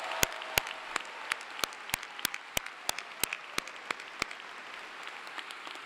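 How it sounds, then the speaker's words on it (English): At a Clemson University spring commencement ceremony, faint applause fills a large venue. Sharp individual claps ring out in a loose, steady rhythm over a soft, distant crowd wash. "Will you please give a big, loud round of applause to Anna Grace for the great job she did singing the national anthem."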